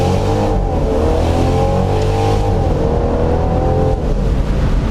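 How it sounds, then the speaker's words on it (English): A 2019 Mercedes-Benz C300 Convertible pulls away hard from a standstill in first gear, its engine roaring loudly and steadily as it gains speed, with a brief dip near the end as it shifts. "let's just go straight from first gear."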